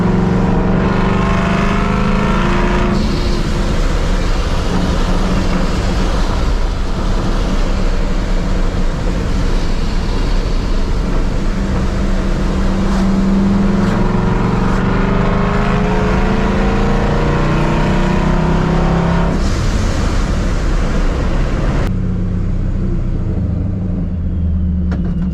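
A boosted Ford Mustang Mach 1 with 15-inch drag wheels and no traction control pulls over a bridge, its engine droning loud and steady in first gear for nearly the whole stretch, rising and falling with throttle, with a brief dip near the end.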